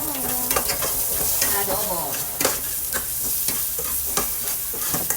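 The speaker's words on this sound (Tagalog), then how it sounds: "At sunod natin ilagay yung sibuyas." Chopped onions sauté and sizzle in a hot pan for Filipino pork adobo, a steady frying hiss broken by frequent clacks and scrapes of stirring, close and fairly loud.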